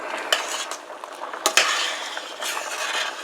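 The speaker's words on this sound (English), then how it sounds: "I'm using the same spoon to stir my Alfredo sauce and my noodles" A spoon stirring Alfredo sauce and penne noodles in a pan over the heat, giving irregular close clinks and scrapes of metal on the pan with soft wet stirring between them.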